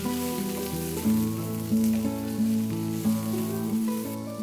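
Red onions sautéing in a teaspoon of avocado oil for crispy Chinese chow mein, a steady close sizzle with periodic stirring swells beneath continuous background music.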